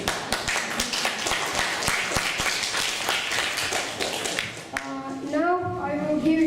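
An audience at a TEDx talk applauds with a dense, steady patter of claps for several seconds, then it fades as a voice begins speaking near the end.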